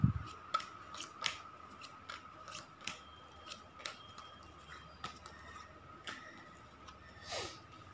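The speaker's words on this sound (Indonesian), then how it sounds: "Oke, saya akan membagikan dulu 9 kartu ini." Nine tarot cards dealt out one after another, giving soft, scattered slaps and flicks of card stock close by, spaced irregularly over several seconds in a quiet room with no talking.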